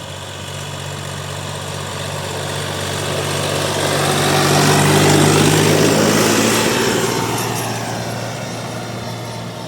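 A DTZ 354U tractor engine drones steadily as it drives across a field levelling soil, a continuous loud rumble that swells toward the middle of the pass and eases slightly near the end, with no talk.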